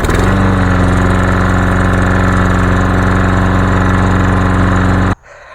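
A lawnmower engine, freshly fitted with a new carburetor, runs loud and steady at close range with a constant droning rumble, then cuts off abruptly near the end.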